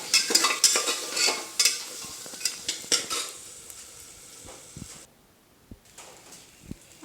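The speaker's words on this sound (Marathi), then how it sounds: "अशा पद्धतीनं हा भात मी मिक्स करून व्यवस्थित घेतलेला आहे" Rice being stirred and mixed into a spiced tempering in a pan for khichdi, a run of scraping spoon strokes over soft sizzling that grows quieter and sparser toward the end.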